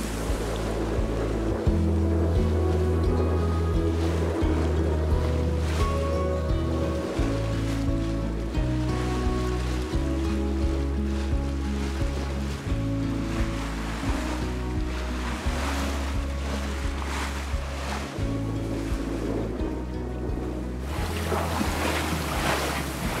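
A sailboat moving under sail on the open ocean, heading toward San Salvador hard on the wind, with steady wind and wave wash around the hull and occasional low creaks and thumps, continuous throughout with no talking.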